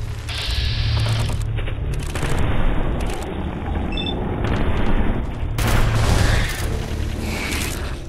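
Sniper rifle fire in Fallout 4 inside a mole rat den: sharp, loud shots with mechanical bolt and reload clicks between them, over a steady rumbling game background.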